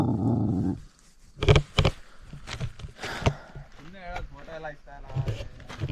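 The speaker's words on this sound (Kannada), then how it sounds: "ನಾಯಿಗಳು ನಮ್ಮನ್ನ ಬೀಳ್ಕೊಡ್ತಾ ಇದೆ." Dogs growl and make short noises along a trekking trail on Kumara Parvata, among scattered knocks and footsteps while people talk nearby.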